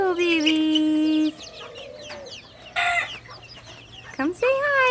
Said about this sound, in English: Polish chicks back there. They're looking all crazy.